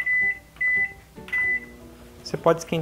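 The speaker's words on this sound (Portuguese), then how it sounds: "Eu vou esquentar aqui no micro-ondas" A microwave oven heating water for bread dough sounds three evenly spaced beeps in the first second and a half, followed by a short burst of clattering kitchen noise near the end.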